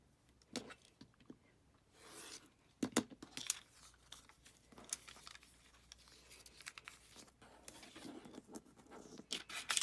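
Scissors cut through freezer paper to free a pineapple quilt block piece for foundation paper piecing, making close, crinkly snips and papery rustles in irregular bursts that grow busier toward the end, with no talking.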